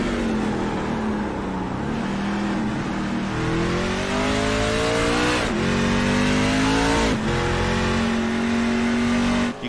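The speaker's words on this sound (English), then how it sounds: "You can hear the short shifting going on basically with the truck." A race truck engine at the Circuit of the Americas road course runs loud and close, its revs climbing and then dropping sharply at several quick short-shifted upshifts before pulling steadily again.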